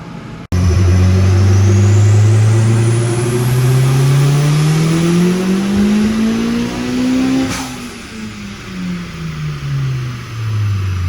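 A tuned Nissan Juke making over 500 wheel horsepower roars on a dyno run, its engine climbing steadily in pitch under full load for several seconds, then falling away as the revs drop, loud and close.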